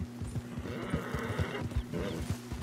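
A horse in Red Dead Online runs with rapid rhythmic hoofbeats and breathy snorts, and a short strained whinny-like cry rises over the galloping midway through.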